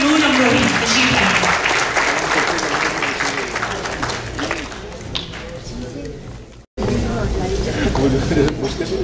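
An audience at a mushaira poetry gathering in Richardson, Texas, applauds to welcome a poet, loud and sustained clapping that briefly drops out and then resumes strongly.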